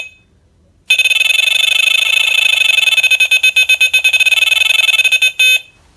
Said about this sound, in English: you have the alarms on the front